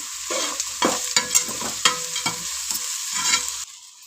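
Tempering sizzles in a pan as salt goes in, steady frying hiss broken by clinks and scrapes of a stirring spoon, then the sizzle cuts off near the end.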